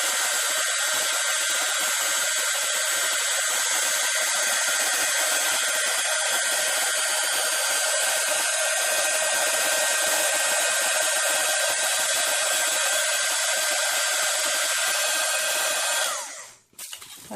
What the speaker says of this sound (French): je vais passer un petit peu la heat gun, vous allez entendre du bruit